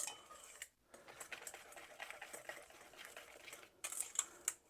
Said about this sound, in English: And our flour. And mix that till it's smooth.